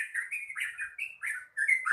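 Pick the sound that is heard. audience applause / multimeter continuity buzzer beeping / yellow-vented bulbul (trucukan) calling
yellow-vented bulbul (trucukan) calling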